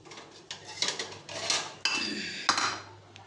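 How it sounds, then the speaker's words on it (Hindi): Chole masala served from a metal pot with a spoon, a handful of sharp scraping and clanking strikes spaced irregularly, close and clear with no talking. "अब करते हैं हम डिश आउट।"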